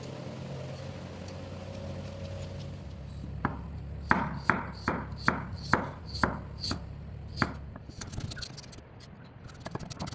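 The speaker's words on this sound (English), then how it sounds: "she's ready to chop up her garlic and ginger into very fine pieces" A knife chops garlic and ginger into fine pieces on a board, about ten crisp, evenly spaced strokes sounding close and clear after a quiet start, with no talk.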